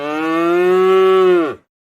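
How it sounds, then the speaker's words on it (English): A cow gives one long, loud, steady moo lasting about a second and a half, ending abruptly into silence. "Cow."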